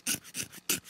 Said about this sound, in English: I'm going to scrape the channels for that.